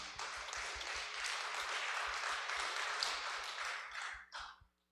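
A church congregation at an evening prayer meeting breaks into steady, dense applause that holds at full strength for about four seconds, then trails off in a last brief burst before stopping.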